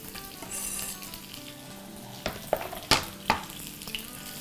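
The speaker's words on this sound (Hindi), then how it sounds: "2 टेबलस्पून ऑयल डालेंगे और इसमें अब हम अपने गाजर डाल देंगे।" Carrots sauté in two tablespoons of hot oil, a soft continuous sizzle punctuated by a few sharp clinks and scrapes of a utensil stirring in the pan.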